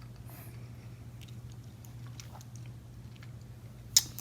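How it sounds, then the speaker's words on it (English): Dragon fruit being chewed and eaten close to the mic, soft wet mouth sounds over a steady low hum, with a sharper bite or crunch near the end. "sorry, I'm chewing and talking at the same time."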